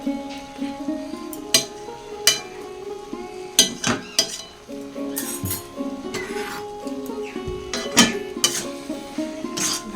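Utensil clinking and scraping in a pan while banana stem curry with ghee and garam masala is stirred, with irregular close metallic taps and clatters over a steady background hum.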